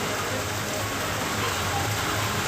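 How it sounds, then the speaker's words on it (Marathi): Heavy unseasonal rain pours on Kalyan city during Diwali, a constant dense hiss of drops on surfaces, steady and fairly loud from start to finish. "कल्याण शहरातही जोरदार पाऊस बरसला."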